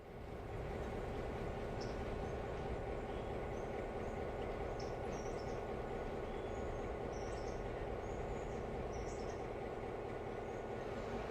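A railroad wagon in the video game Railroader rolls downhill without a locomotive. It makes a steady, fairly quiet low rumble of wheels on rail with faint squeaks and clicks, and no other sound.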